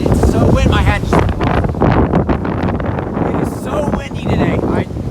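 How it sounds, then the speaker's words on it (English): Strong wind buffets the microphone during an outdoor tour of Spring Grove Cemetery, a loud, continuous roar of gusts under a person talking. "it's so windy, my hat just"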